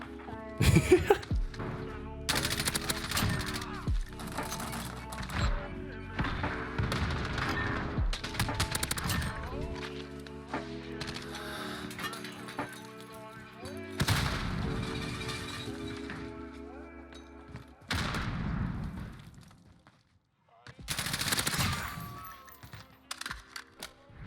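Modern Warfare video game gunfire comes in repeated loud bursts and single shots across a busy match, with short gaps and a brief quiet spell before another close volley.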